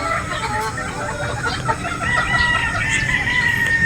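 Boston Roundhead gamefowl roosters crow at a game farm in Batangas, several overlapping calls in a busy, steady yard with clucking and background noise; no clear talk.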